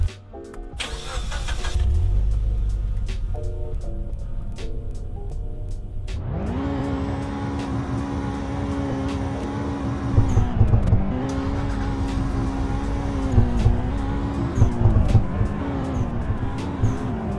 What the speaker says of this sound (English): This is the Cummins version of the new 2018 Ram